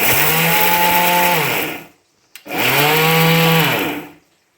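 A kitchen mixer grinder whirs loudly as it grinds garlic into a fine paste, running in two close bursts of steady high-pitched motor whine that wind up and spin down, separated by a short pause, with no talking.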